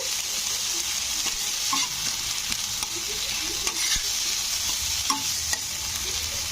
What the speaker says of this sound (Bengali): এবারে তেলের সঙ্গে আদা রসুনের পেস্টটাকে নাড়তে হবে